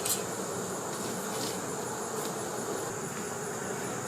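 Honey bees swarm around a beehive, their dense, steady buzzing close by and constant throughout, with no voices.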